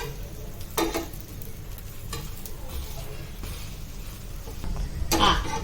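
Bread omelette frying in a pan, a steady low sizzle with a few sharp clatters of a spatula turning it, moderately close and alone.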